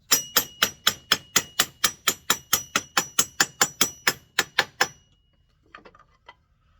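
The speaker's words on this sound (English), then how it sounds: "And a wooden hammer." A wooden hammer pounds rapidly about twenty times in an even rhythm of sharp knocks on a 1962 Sprunger Brothers wood lathe during bearing replacement, then stops, followed by a few faint clinks.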